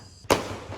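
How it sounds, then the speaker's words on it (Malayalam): A single sharp firecracker burst cracks out close and loud, then leaves a short fading rumble behind it. "പടക്കം പടക്കം പടക്കം പടക്കം."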